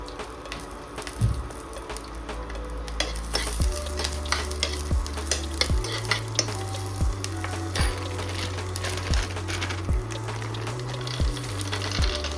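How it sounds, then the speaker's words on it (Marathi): Garlic and peanuts fry in hot oil with a steady sizzle, while a spoon scrapes and stirs through the pan in repeated strokes, close and fairly loud. "आपण थोडंसं त्याच्यामध्ये तेल टाकू आणि या तेलमध्ये जे आपण लसूण काढून ठेवलेलं होतं ते गरम करून घेऊ"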